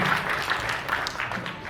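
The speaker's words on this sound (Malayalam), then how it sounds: "ഒരിക്കലും കൂടി നല്ലൊരു കയ്യടി കൊടുക്കാം സുരാജേട്ടന്" Applause from the audience for actor Suraj at a Malayalam film audio launch event. A loose wash of clapping runs briefly and steadily, moderately loud, with no clear speech on top.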